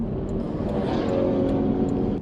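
A Subaru BRZ with a fault shudders and shakes while driving, giving a steady loud low rumble of engine and road noise from inside the car, with light rattles over the top and no talk.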